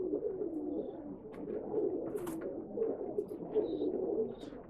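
Pigeons coo in low, soft, rolling calls at a Bangalore pigeon sale, several birds overlapping close by with faint chirps and rustles and no talk.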